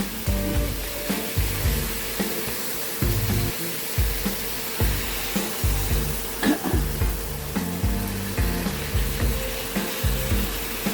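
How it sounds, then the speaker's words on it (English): Cut butter melts and sizzles in a hot pan with oil while cooking butter chicken, a loud close crackle under rhythmic scraping or stirring strokes that repeat every second or so. "Butter is getting melted."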